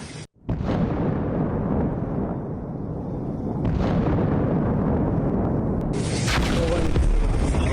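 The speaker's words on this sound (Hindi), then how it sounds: "लेबनान के बेका में इजराइल की बमबारी।" Israeli bombing in the Bekaa, Lebanon, where buildings were destroyed, bursts in after a brief quiet into a sustained, loud, rumbling roar of blasts that swells again near the end.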